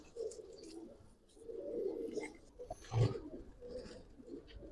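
Pigeons coo in low, soft murmuring phrases from close by, with one fuller coo standing out near the end, while faint background noise runs underneath.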